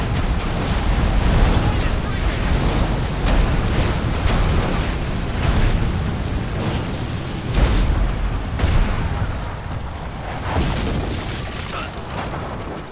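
Catapults fire in Ryse: Son of Rome during a palace courtyard battle, loud deep booms and crashing explosions rolling one after another over a dense battle din, with voices shouting amid the barrage.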